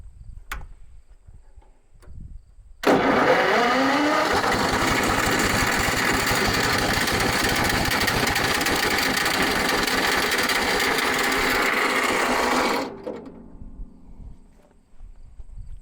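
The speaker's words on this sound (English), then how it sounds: "I'm going to go ahead and start it up and let you hear it run" Wood chipper engine starting up with the starter failing to disengage, a loud, steady mechanical whir and grind that holds for about ten seconds, then cuts off abruptly into a quieter close.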